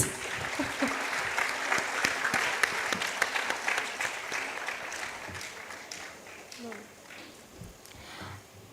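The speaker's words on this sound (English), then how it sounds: "let us give a huge round of applause to all our winners" Hearty applause for the winners at a Goa schools awards ceremony fills the first half, then thins into scattered clapping as a voice speaks faintly over it.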